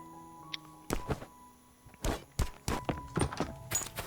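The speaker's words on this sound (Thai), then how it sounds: "กว่าจะตีกล่องและกล่องจะพังก็ใช้เวลาอยู่นะ" Dull thunks from hitting a loot box in the Last Island of Survival video game land in an irregular series of about eight or nine hits, moderately loud with no talk.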